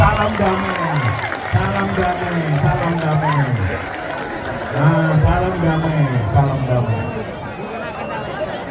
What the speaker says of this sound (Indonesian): Kita berikan tepuk tangan damai.